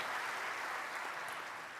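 A church congregation applauds during a sermon, a steady, even wash of clapping from many hands that holds at a moderate level throughout and eases slightly toward the end, with no talk over it.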